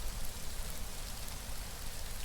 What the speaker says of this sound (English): Of course, we're getting rained on like crazy.